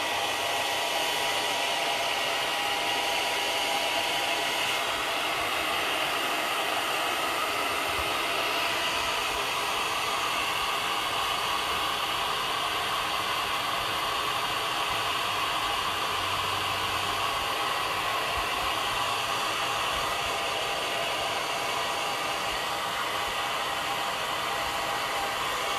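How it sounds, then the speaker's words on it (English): A blow dryer standing in as a heat gun runs without a break, a loud, even, airy roar that holds the same level throughout while paint finish on a wooden flatware storage chest is warmed. "we're gonna take our heat gun, which today is a blow dryer"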